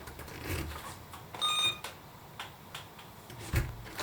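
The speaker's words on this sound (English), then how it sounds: "I honestly think that is one of the nicest sounding chimes in the industry" A Radionics security panel sounds its door chime as a door opens, a brief bright tone burst standing alone over quiet room noise, with a soft knock or thump near the end.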